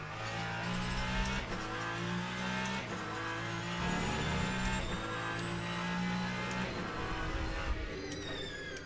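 A race car in the sim racing game Le Mans Ultimate brakes hard for the Dunlop curve with the left front tire locking, a steady engine drone with rhythmic downshift pulses and tire squeal, loud and continuous.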